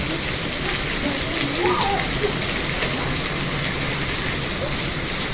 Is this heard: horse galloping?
no